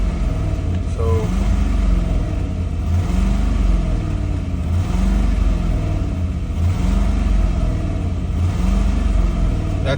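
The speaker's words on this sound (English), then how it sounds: "that's me throttle pressing." A 2008 Ford Expedition engine rumbles loudly and close at idle, with repeated throttle blips swelling and fading in a steady rhythm over the low drone.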